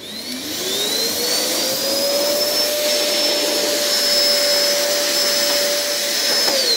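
A vacuum cleaner fitted with a filter runs steadily indoors, its loud whine climbing in pitch at switch-on and then holding a constant high tone over a broad airy roar for the whole stretch.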